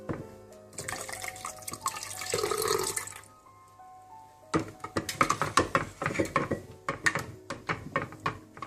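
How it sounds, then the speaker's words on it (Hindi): Cold water is poured into a green pani puri water mix in a steady close stream, followed after a short pause by clinking and sloshing as the liquid is stirred. "इन सबको अच्छी तरह से मिक्स करने के बाद आप इसमें पानी डाल दीजिए, बिल्कुल ठंडा पानी।"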